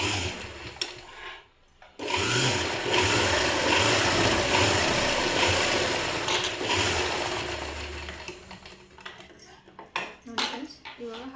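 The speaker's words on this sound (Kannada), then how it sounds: "ನಾನು 1 ಇಂಚಿಗೆ ಇನ್ನೊಂದು ಸ್ಟಿಚ್ ಹಾಕ್ಕೊತಾ ಇದ್ದೀನಿ." A sewing machine stitches a pocket onto a government school boy's uniform shirt, running in a steady mechanical whir for about six seconds before slowing and stopping amid light handling clatter.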